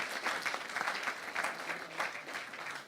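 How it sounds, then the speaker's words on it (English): Conference attendees clap in a sustained round of applause. The clapping is fairly soft and continuous, with scattered, uneven hand claps throughout. "let's give another round of applause for Wojtek."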